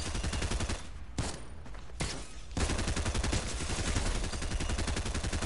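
Shotgun blasts in a Zero Build video game match, rapid heavy firing packed into a loud continuous barrage with a brief lull near the start, no voices.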